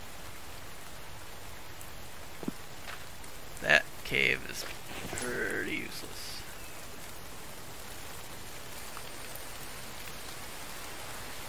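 Steady rain falls in the survival game Infected, a constant soft hiss running throughout, with a few brief thuds and a voice speaking briefly over it.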